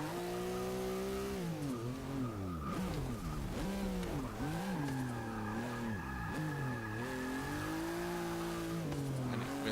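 A 1963 Volkswagen Beetle racing in Forza 6, engine droning and revving continuously as the pitch rises and falls through gear changes, with tire squeal through corners, loud and steady throughout.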